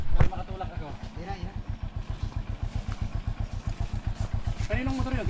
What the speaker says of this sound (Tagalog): Kaninong motor yun?